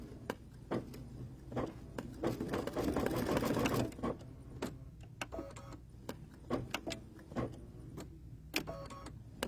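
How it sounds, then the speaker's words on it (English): An embroidery machine stitching an in-the-hoop project, giving a steady rapid mechanical stitching rattle with sharp periodic clicks and ticks, close and continuous with no talk. "I think we just need a couple more stitches."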